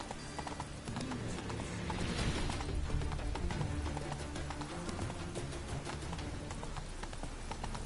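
Roach, the horse in The Witcher 3, galloping with a quick, steady clip-clop of hooves that runs throughout, close and continuous under a dense background of game music and ambience.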